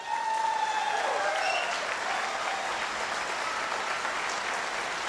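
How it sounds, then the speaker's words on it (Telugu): An audience at an indoor boot camp meeting claps loudly and steadily in a dense, sustained round of applause, with a voice briefly heard at the start. "మీరు కోరుకుంటామంటే చప్పట్లు కొట్టాలి ఇప్పుడు గట్టిగా"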